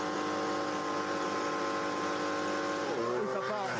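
A Formula 1 car on the grid at Spain's 2021 Grand Prix practice holds a high, steady engine rev that builds and then rises sharply near the end as the clutch bites, loud and sustained.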